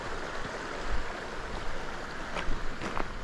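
A mountain creek flows beside a hiking trail near Vermillion Valley Resort and Silver Pass on the John Muir Trail, a steady broadband rush of water, moderately near, with a few faint knocks.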